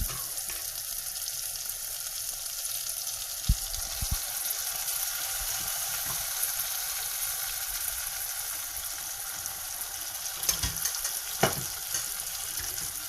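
Red lentils for tarka dhal are tipped into a pan and stirred, giving a steady quiet sizzle and watery simmer with a few soft clinks of the spoon against the pan.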